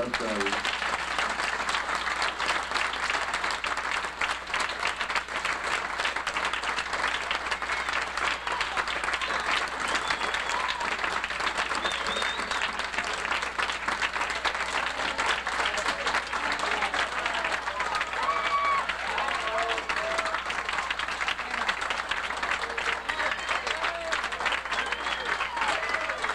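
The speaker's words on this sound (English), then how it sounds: "one more round of applause for the 3 gentlemen who have just done a marvelous job getting us where we need to be" A large audience of marching band and swing choir members on a Washington DC trip gives a long, dense round of applause for their three bus drivers, continuous and full for nearly half a minute, with crowd voices mixed in.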